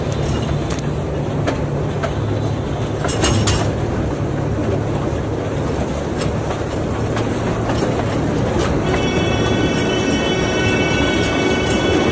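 A toy train circles an amusement park in Digha, making a steady rumble with clickety-clack wheel noise. It runs continuously and fairly loud, with no talk over it.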